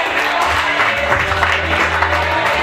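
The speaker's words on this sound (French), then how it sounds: "Mesdames et messieurs, on applaudit pour lui" Audience applause in a comedy club, a dense continuous patter of clapping filling the room, loud and steady, with a low hum and some indistinct voices underneath.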